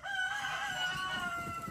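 Alabaster, a farm hen out on a muddy day, gives a drawn-out, wavering cluck that rises and falls over about two seconds, close by and alone.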